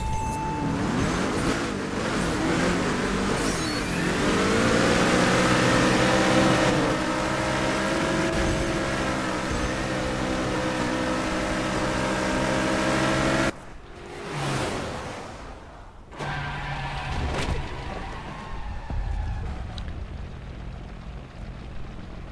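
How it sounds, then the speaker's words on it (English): Car engines from teammates' vehicles in The Crew racing game drone steadily with shifting, rising tones, a dense continuous roar that briefly drops away before resuming at a lower level. "you do not hear your engine, but you hear your teammates' engines."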